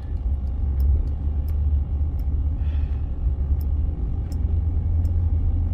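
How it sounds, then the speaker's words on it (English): Cars travel along a road in West Texas on a cold day, heard as a continuous low, near rumble of traffic and engine noise with a few faint ticks scattered over it. "You can see all the cars."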